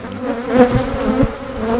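Honey bees hum in a dense, steady buzz at an opened hive box in a backyard apiary, close and fairly loud, with no talking.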